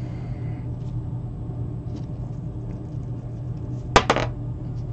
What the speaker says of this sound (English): Going to roll the dice twice